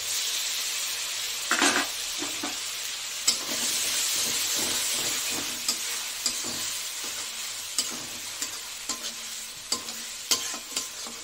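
A pan of ground tomato, onion and green chilli paste with ginger and garlic paste frying, a steady close sizzle broken by repeated scrape-and-stir clinks of a spoon, with no talking.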